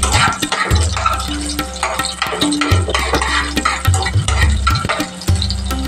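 Onion goes into a very hot pan and is stirred for a chicken dish, giving a loud close sizzle with frequent scrapes and knocks of the utensil throughout.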